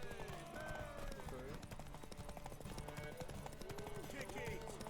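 Horse hooves clip-clopping in the video game The Witcher 3, a quiet steady hoofbeat under game music and a neigh, with voices talking over it.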